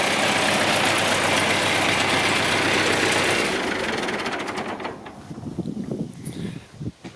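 An old, worn tractor engine idles with a steady loud low knocking rumble, then shuts down and fades, leaving sputtering clanks and faint sounds behind.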